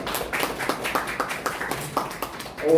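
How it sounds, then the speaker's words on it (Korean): A small church audience applauding the worship team, with sparse, uneven clapping from a handful of people in a room, ending as a voice begins. "우리 찬양팀에게 박수 한번 드리겠습니다"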